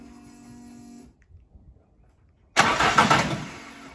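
A steady hum with tonal lines, a second of near silence, then a Ford Cortina Mk5 with a turbo Pinto engine cranks from cold and catches, roaring into a loud, rough idle.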